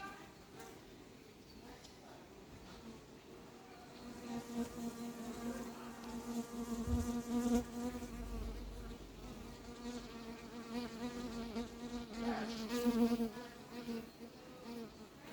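Bees hum steadily and close at a hive in a French apiary, beside a newly installed anti-hornet tent. The layered drone swells and fades as individual insects pass near, with faint background noise underneath.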